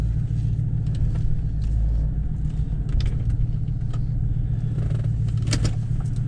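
A 2003 Mercury Marauder rolls downhill with a steady low road rumble and tire noise, while faint clicks and rattles sound inside the cabin and no one speaks.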